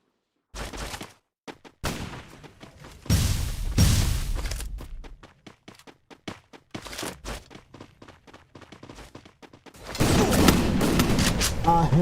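Gunfire in the battle royale game Free Fire, with scattered single shots, bursts and heavier sustained volleys over twelve seconds, growing dense and loud near the end, under a caster's excited commentary.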